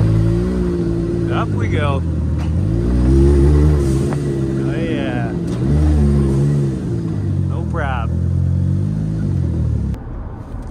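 A 2022 Jeep Wagoneer rolls along a gravel road, its engine and tire rumble a steady, close drone heard from inside the cabin, with a brief rev as people talk over it.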